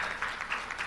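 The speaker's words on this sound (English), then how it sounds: "Can we clap and acknowledge?" Brief applause at a democracy stakeholders' conference in Africa, a steady wash of distant clapping from a large room lasting under a second.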